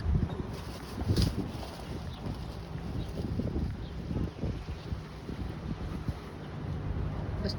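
Outdoor wind blustering among hibiscus flowers, a steady rumbling gust against the microphone with faint rustling, continuous and fairly loud throughout.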